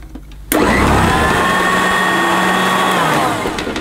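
Electrolux Widetrack C2116 upright vacuum cleaner on carpet at its medium setting, switching on abruptly into a loud, close, steady motor whine with a high tonal hum that dips slightly near the end.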